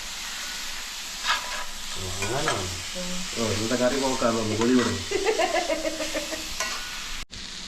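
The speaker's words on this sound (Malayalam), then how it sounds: "നമ്മൾ ഉള്ളി ഒന്ന് പെട്ടെന്ന് വാടി കിട്ടാനായിട്ട് കുറച്ച് ഉപ്പിട്ട് കൊടുക്കാം" Sliced onions sizzle and hiss in a hot pan after a pinch of salt is added, with stirring scrapes throughout, while someone speaks over the cooking noise.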